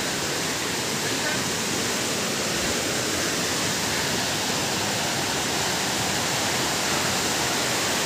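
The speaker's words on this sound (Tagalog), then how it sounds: "Yan ang Abungan Falls." Abungan Falls, a waterfall in Dingalan, Aurora, rushes in a steady, loud, unbroken roar of broadband water noise filling the whole stretch, close by and with no break.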